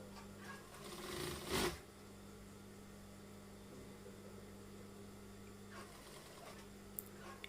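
A sewing machine hums quietly as it stitches a garment, with a low steady drone and a brief louder rattling burst near the start.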